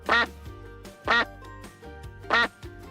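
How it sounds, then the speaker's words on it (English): Three loud, evenly spaced duck-like quacks, each a short nasal burst, stand out over a steady low hum in a talk-show setting. The sound may be a duck call or sound effect. "Like a duck."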